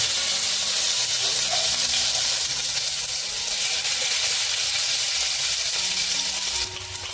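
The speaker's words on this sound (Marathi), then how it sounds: "तेल चांगला तापला तापलेलं आहे आपण आता लसूण टाकूया" Garlic dropped into hot oil sizzles and hisses steadily, a bright continuous frying crackle that stays close and loud for several seconds, without any talking.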